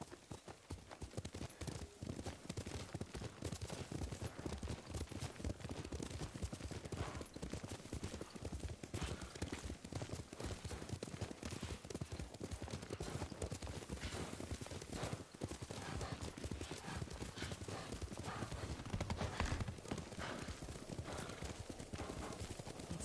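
Steady clip-clop of horse hooves at a riding pace in Ghost of Tsushima, continuous and close for the whole stretch, with an occasional whinny and ambient game sound beneath.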